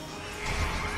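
A summoned horse in Final Fantasy XIII gives a short, loud neigh over dense game sounds and music, brief and close.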